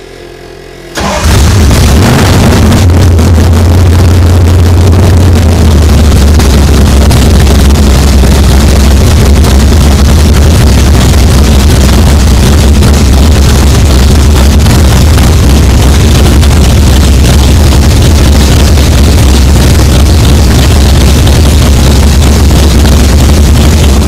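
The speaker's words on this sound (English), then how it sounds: "Gene, let's go ahead and start it up." A carbureted hot rod engine, the custom show car known as The Thing, cranks and fires after about a second, then settles into a loud, steady, rumbling idle that continues alone for the remainder of the clip.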